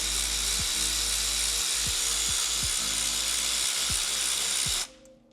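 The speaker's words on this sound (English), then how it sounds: "grab our electric ratchet here, just get this one backed all the way out" An electric ratchet backs a long bolt out during work on a 2006-21 Subaru STI. It makes a steady, loud, close whirring buzz with slight pitch dips every half second or so, then cuts off abruptly near the end.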